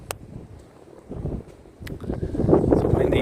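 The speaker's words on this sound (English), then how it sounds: "It's a windy day today." Gusty wind on a chilly day in the Pennsylvania elk country buffets the microphone in a low rumble, building louder toward the end, with faint rustling and no clear voices.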